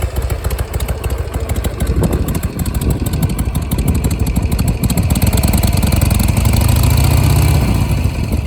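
A 2004 Harley-Davidson Sportster Custom 883 motorcycle, warmed up, starts and settles into a loud, close, lumpy idle, its rumbling V-twin pulse steady throughout with a slight swell near the end.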